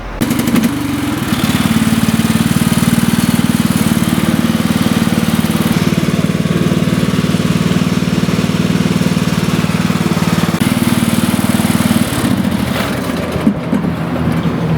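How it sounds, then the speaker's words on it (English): A riding mower's engine starts and runs at a steady loud drone, with a slight shift in pitch partway through. "I will start the machine, try to drive it to show you that it's not working."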